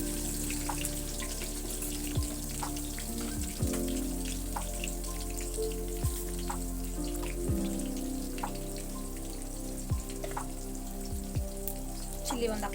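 Onions frying in hot oil with curry leaves for a fish curry, a steady bright sizzle with scattered crackles and pops running throughout, close and continuous with no talking.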